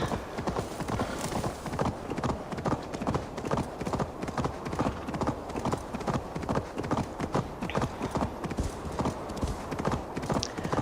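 Steady rapid hoofbeats of a galloping horse in Assassin's Creed Valhalla, loud and rhythmic throughout, with a brief whinny-like cry and faint background game ambience.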